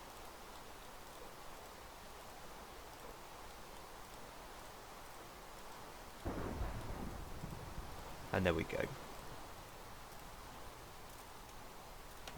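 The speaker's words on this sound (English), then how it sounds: "I hate the way it rains on single player so much." Steady rain from Minecraft single-player weather, a soft continuous hiss running the whole time, with a short spoken phrase over it.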